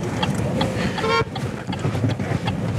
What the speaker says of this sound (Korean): 뒤에서 빵빵거리네, 택시가.